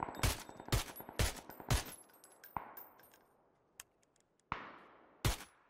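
Shotgun fire in PUBG: four loud, close blasts in quick succession, then a pause, a fainter shot, a few scattered clicks, and two more sharp blasts near the end.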